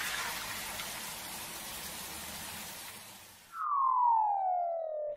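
A Pocoyo weather playset plays a soft, steady hiss of toy rain for a few seconds, then a clear gliding electronic tone falls in pitch.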